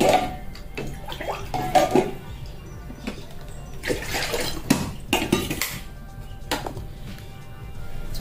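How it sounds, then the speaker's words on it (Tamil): Splashing, pouring hot water with clinks of pots and utensils, moderately loud and close, coming in uneven bursts, while making sago (javvarisi) vadam. "சுடு தண்ணி வச்சுருக்கேன், ஊற்றி பாருங்கள்."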